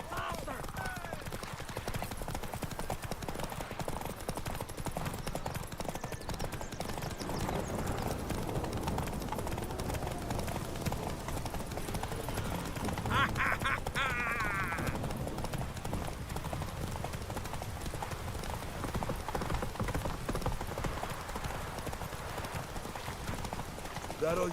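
Galloping horse hooves in a horse race in The Witcher 3, a steady rapid clip-clop running throughout under music and voices, with a short burst of crowd noise midway.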